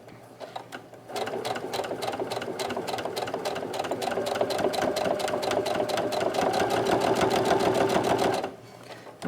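Stitching through a homemade cloth face mask, a sewing machine starts after a quiet second, runs in a rapid, even hum for about seven seconds, then stops abruptly.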